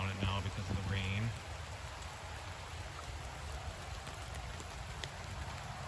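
Steady rain falls outdoors on a late-May walk beside a rain-fed wash and creek, a continuous broadband hiss of drops on surfaces; a voice is heard briefly at the start before the rain carries on alone.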